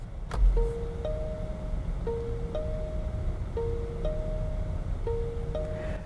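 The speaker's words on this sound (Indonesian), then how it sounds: "mobil ini punya bunyi sen yang beda antara belok kiri sama kanan" Steady two-tone ticking of a BYD Dolphin electric car's right turn signal, a tick-tock pair repeating about every 1.5 seconds, close and clear over a low hum.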